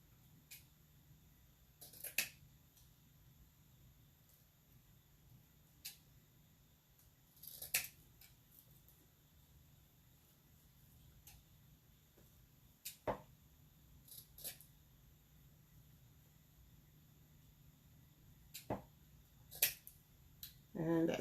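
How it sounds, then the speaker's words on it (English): Scissors snip ribbon to trim a bow's edges into a dovetail, giving a few faint, sparse cuts spaced several seconds apart over a quiet room. "And then I'm going to trim up my edges of my bow and make them like a dovetail."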